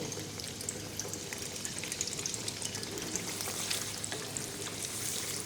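Paneer deep frying in hot oil at around 180 to 200 degrees, a steady dense sizzle and crackle that stays loud and close throughout with no talk over it.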